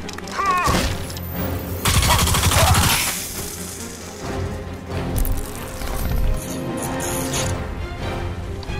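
Heavy machine gun fire in Crysis 2 rattles loudly, with dense bursts and blasts layered over a busy, continuous game soundscape.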